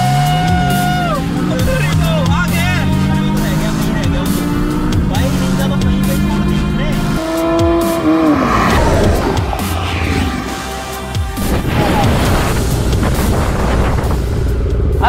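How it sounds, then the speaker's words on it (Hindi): Engine roar from a Porsche and a Kawasaki Ninja ZX-10R superbike racing each other: a loud, continuous drone with rising and falling pitch sweeps, surging bursts, and a brief dip near the end, with no speech. "ओ भाई साहब आवाज यार क्या खतरनाक है भाई।"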